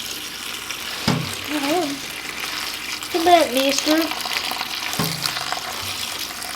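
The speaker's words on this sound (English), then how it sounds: "And now I'm going to rinse them in some cold water." Cold tap water runs steadily into a sink while mustard greens are rinsed, giving a broad hiss with splashing surges. A person speaks briefly over it.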